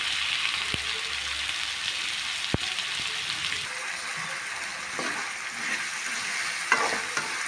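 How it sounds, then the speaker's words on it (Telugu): Tomatoes with capsicum and green chillies cook down in oil in a pan, giving a soft continuous sizzle with occasional stirring scrapes and a few sharp knocks, close and unaccompanied by speech. "టమాటా ఇవన్నీ నూనెలో మగ్గనివ్వాలి"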